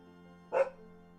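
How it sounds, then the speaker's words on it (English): Domino, a pet dog, lets out a single short, sharp bark at a kitten, standing alone above a faint low household hum. "Why are you barking at the cat?"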